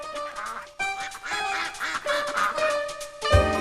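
Two angry ducks quack loudly and close in rapid, overlapping bursts, with a sharp thump at the end and no talking.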